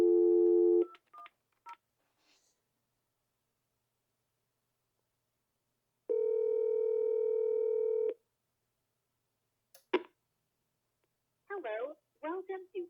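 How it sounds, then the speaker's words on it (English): An Excelltel MS208 PBX telephone gives a steady dial tone, then a short series of keypad tones as an extension is dialed, a longer tone, and finally a recorded voice prompt begins. "let's try dialing a full extension instead"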